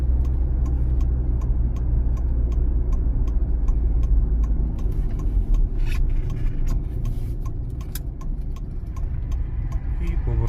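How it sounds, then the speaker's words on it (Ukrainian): A car's right turn signal ticks in an even, steady beat under the constant low drone of the engine and road noise from inside the cabin during a driving exam route in Ternopil, with brief speech partway through. "Вмикаємо правий покажчик повороту."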